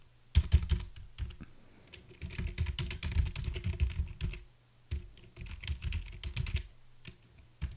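Bursts of fast typing on a computer keyboard, close and clear, with rapid clicking clusters separated by short pauses in a quiet room.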